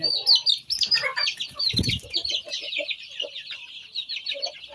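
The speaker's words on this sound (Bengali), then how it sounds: "সন্ধ্যা হইতেছে, দেখেন সব মুরগি" Hens and chicks clucking and peeping together at dusk, a busy close chorus of high chirps and lower clucks with a brief flutter of wings.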